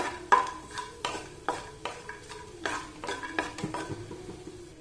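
Almonds roast in a pan for rava laddu while a spoon stirs them, making a series of light scraping and clinking strokes in an uneven rhythm over a quiet, faint sizzle.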